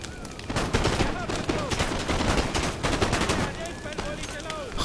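Musket volleys crackle across an Empire Total War battlefield, dense overlapping shots in a ragged fusillade that rolls on continuously, with faint whistling and battle noise mixed in.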